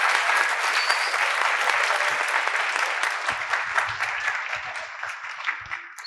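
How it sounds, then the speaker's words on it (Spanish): An audience at a science café's second-anniversary special gives a warm round of applause, dense steady clapping that fades slightly over six seconds, fairly loud and filling the room, with faint murmuring underneath. "Pido un fuerte aplauso para Maya."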